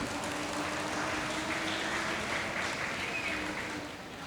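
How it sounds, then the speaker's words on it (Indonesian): Applause from an audience at the opening ceremony of a Hindu pasraman jamboree in a hall in Jakarta, a steady, faint wash of clapping lasting a few seconds. "Mari kita beri aplaus kepada Pak Pembimas."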